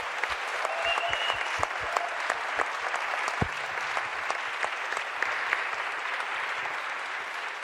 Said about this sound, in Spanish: yo quiero aprovechar para darles un fuerte aplauso, por favor, a nuestros panelistas